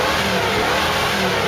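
A 1968 Mercury Cougar XR-7 with a 302 V8 runs steadily and smoothly, a close, loud, even engine drone that holds alone with no talk.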